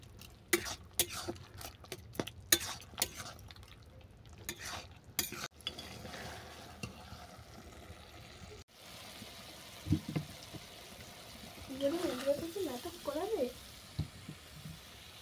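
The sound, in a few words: stirring fish curry with mustard paste in pan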